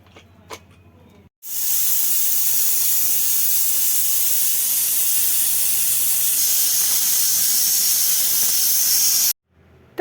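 Steam hisses loudly and steadily for about eight seconds from a pressure cooker whistle while rajma cooks on a mud stove, starting abruptly after a quieter moment and cutting off sharply near the end.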